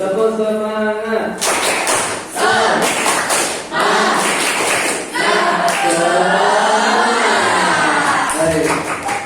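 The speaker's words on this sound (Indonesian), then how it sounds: "Tepuk semangat dulu. Tepuk semangat." A classroom of children doing a rhythmic spirit clap: a patterned sequence of loud group claps and thumps mixed with shouting voices, in bursts separated by short pauses.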